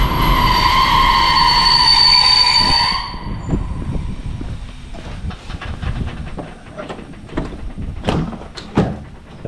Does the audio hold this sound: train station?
yes